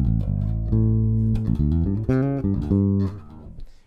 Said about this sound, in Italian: Quello che voi naturalmente sentite è il suono del basso in flat.